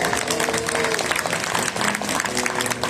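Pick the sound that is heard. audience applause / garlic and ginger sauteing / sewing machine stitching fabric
audience applause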